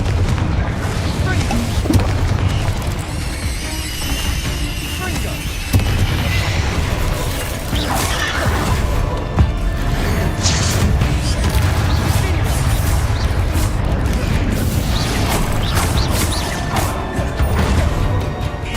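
Spells and explosions crash and boom throughout combat in the Hogwarts Legacy video game, loud and dense with repeated blasts and impacts, while a voice calls out spell names over the din.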